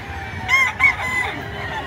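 A gamefowl rooster crows once, a short, ragged, mid-distance call lasting under a second, set against background noise.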